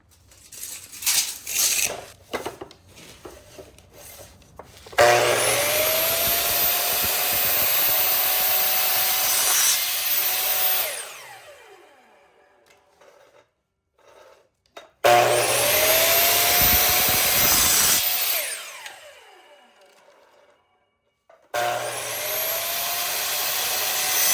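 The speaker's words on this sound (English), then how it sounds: "So we're cutting our 3/4 PVC 40, schedule 40 pipe to 2-foot sections." A power tool cuts 3/4 inch schedule 40 PVC pipe into two-foot sections in three loud bursts, each a steady whining roar of several seconds, separated by short pauses with quieter handling knocks and clatter.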